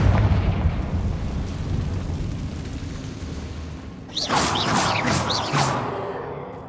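A Confringo blasting spell explodes in Hogwarts Legacy: a long, heavy rumbling boom, then sharp crackling bursts and debris flaring loudly near the end.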